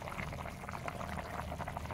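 Chicken meat curry bubbling in a pot, a steady, soft simmering burble with no break, fairly quiet and close.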